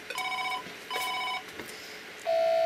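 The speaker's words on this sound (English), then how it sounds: "the phone at the end of the forwarding chain is flashing and ringing" A Norstar business telephone rings on a forwarded call, giving two short bursts of electronic trilling, then a steady, louder tone close by, with no speech.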